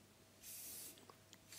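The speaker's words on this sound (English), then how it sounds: "Better to do lots of light, spray it lightly rather than doing a heavy coat" Light bursts of spray paint from an aerosol can laying down a thin base coat in a fish room, a long steady hiss followed by short puffs and another hiss starting at the end.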